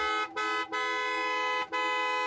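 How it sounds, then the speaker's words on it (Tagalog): A car horn honks insistently, a long blare broken by three short gaps, loud and close. "Bumusina siya ng malakas."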